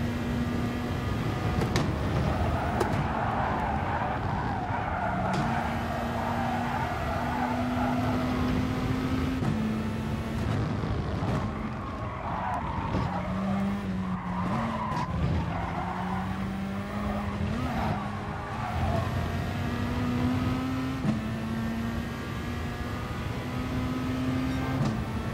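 A Peugeot RCZ races in Gran Turismo Sport, its engine droning steadily with rising gear pulls and repeated tire squeals and skids throughout, loud and continuous with no talk.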